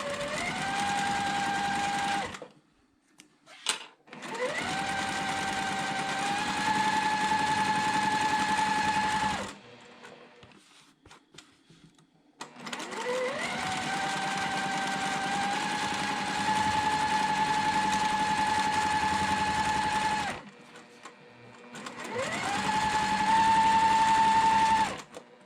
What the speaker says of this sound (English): I'm going to stitch on each side of that line.